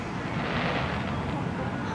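Fireworks bursting at a display in Chillicothe, Ohio, heard as a dense, steady rumble and crackle that stays loud for the whole stretch, with no clear pause between blasts.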